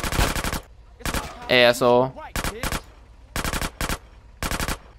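Rapid bursts of minigun fire from GTA San Andreas, several loud sustained volleys separated by short gaps, with a brief burst of talk in the middle.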